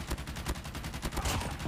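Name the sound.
gunfire in a shooter video game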